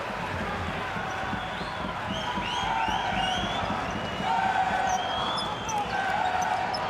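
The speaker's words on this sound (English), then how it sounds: "You can hear the crowd responding to Gonzalez's performance." A basketball arena crowd at a Champions League game between Montakit Fuenlabrada and AEK keeps up a steady, full roar after a dunk, with high squeaks over it and a commentator talking throughout.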